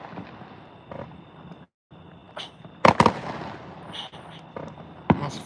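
Fourth of July fireworks crackle and pop outdoors, with several sharp bangs and a scattering of smaller firecracker bursts at an irregular pace.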